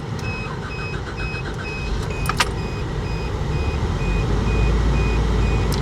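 A car with a Toyota 3FE engine drives along with a low, steady engine rumble that grows slightly louder toward the end, while a repeating electronic chime beeps above it.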